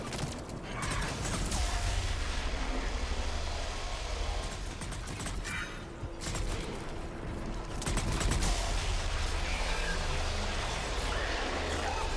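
Rifle fire from a distant, imprecise gun in the Mass Effect 3 video game, heard as a dense run of repeated shots over busy battle noise and music, with voices nearby.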